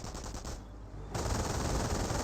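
An MG42 machine gun in the Company of Heroes video game firing sustained, rapid bursts, fairly faint and distant, pausing briefly before a denser stretch of continuous fire.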